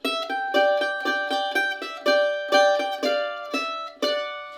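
A mandolin plays a bright, evenly picked bluegrass phrase from "John Henry", sharp plucked notes and chords, each attack ringing briefly before the next.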